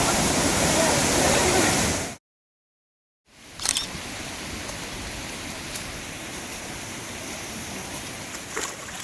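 A large forest stream on the way to Pawankhind rushes along in a loud, steady broadband roar, cut by a sudden full second of silence before the flow resumes with a few sharp handling knocks.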